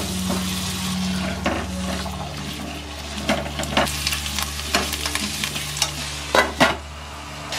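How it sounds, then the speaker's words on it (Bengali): Potatoes fry in mustard oil with spices, a steady low sizzle and hiss under repeated scraping stirs and clinks of a spoon against the pan, close and moderately loud. "কারণ এটাতে আলুটা ফ্রাই হবে আর মশলাটা তৈরি হবে"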